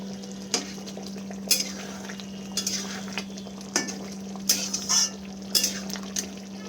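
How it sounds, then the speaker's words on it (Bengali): Bhetki fish kalia being mixed in a pan: a spoon scrapes and knocks against the metal in irregular strokes about once a second, over a soft sizzle and a steady low hum. "এবার সব কিছু ভালো করে মিক্স করে নেব।"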